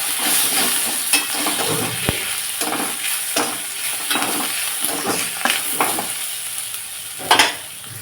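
A dal tempering with asafoetida and turmeric sizzles loudly in a pan while a spoon stirs it in repeated scraping strokes, the hiss steady and close with a brief sharper clatter near the end and no voices.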